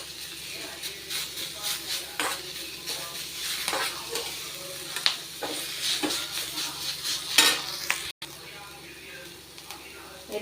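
Vallarai (brahmi) leaves sautéing in a pan, with soft sizzling under a steady stream of stirring and scraping clicks from a utensil, plus occasional sharper metallic taps; close and moderately loud throughout.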